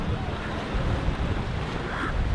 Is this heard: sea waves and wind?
yes